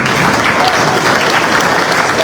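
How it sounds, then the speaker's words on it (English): An evening crowd at a United States Independence Day anniversary celebration applauds a band, a loud, dense, unbroken burst of clapping heard alone. "Let's give them a round of applause."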